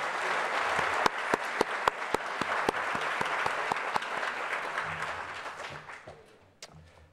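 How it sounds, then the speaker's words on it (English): Audience at a community forum on prescription drug and heroin addiction applauds the panel, steady hall applause with sharp individual claps standing out, tapering off toward the end into scattered claps and quiet room noise. "I want to give a round of applause to the panel"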